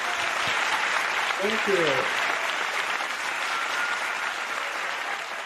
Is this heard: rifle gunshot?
no